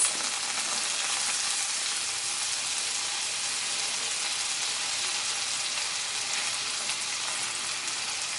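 Shallots frying in vegan butter in a pan next to mushrooms, a steady close hiss of sizzling that holds at an even level throughout, with no voices.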